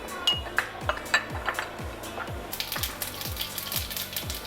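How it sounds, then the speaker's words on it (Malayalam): Mustard seeds popping in hot cooking oil in a pan, a steady series of sharp little crackles and pops repeating about every half second, close and fairly quiet. "നമ്മുടെ കടുക് പൊട്ടി വരുന്നുണ്ട്."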